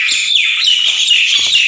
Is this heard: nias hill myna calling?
yes